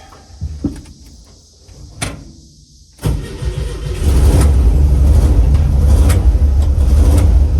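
An older car with charging-system and idle faults clicks and cranks, catches at about three seconds and settles into a loud, steady running rumble, with a few small clunks beforehand.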